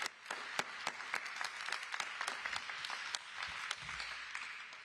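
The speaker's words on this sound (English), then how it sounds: "Give them a big round of applause." Crowd applause at a Mayor Eric Adams rally celebrating the Midtown South mixed-use plan, honoring council members: dense clapping from an outdoor audience with a few sharp nearby claps standing out, steady for several seconds.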